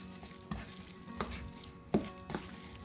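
Seasoned alligator gar meat and potatoes being stirred and mixed in a pot, four distinct scraping knocks of the utensil spaced about half a second apart over a faint background, no voices.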